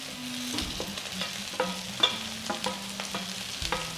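Curry leaves crackle as they are stirred in a pan with softened tomato, with a steady low sizzle and repeated spatula scrapes and taps, close and alone.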